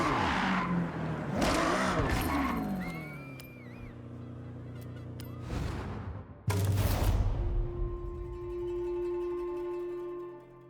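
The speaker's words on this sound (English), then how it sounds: "This is clearly not your first time drifting." Car drifting in the Forza Horizon racing game, with sustained engine roar and screeching tire skids in bursts, loud and close, settling into a steady engine drone near the end.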